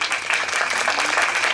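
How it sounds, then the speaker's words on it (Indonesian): Dense audience applause at an interfaith cultural gathering and commemoration, steady and fairly loud, many hands clapping together through the whole brief moment. "tepuk tangan untuk beliau."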